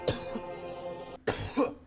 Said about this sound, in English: Sorry about that cough there.